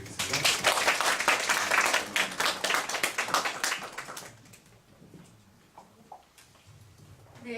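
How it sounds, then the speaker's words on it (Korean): Audience applause greets a lecturer at an educational session, brisk and fairly loud for about four seconds before dying away into a quiet room with a few soft scattered sounds. "박수 한번 부탁드리겠습니다."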